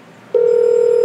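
A desk phone on an office PBX system rings with a steady electronic tone that begins abruptly after a brief quiet moment and holds evenly, nearby and fairly loud.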